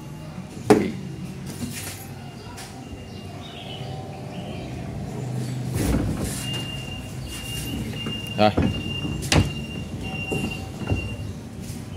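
A Euroboor ECO.50S magnetic drill bores a 22 mm hole through 12 mm thick steel, giving a steady motor whine with squealing, grinding cuts and a few sharp clanks. A voice speaks briefly.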